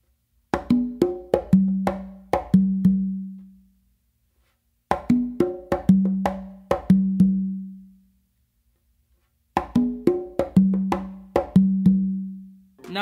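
An Afro beat rhythm on congas and tumba repeats three times, each phrase a quick run of sharp slaps and ghost strokes settling into ringing open tones. The drumming is close and solo, with pauses between phrases.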